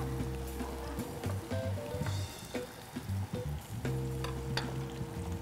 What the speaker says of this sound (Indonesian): Ini kita tumis sampai harum pemirsa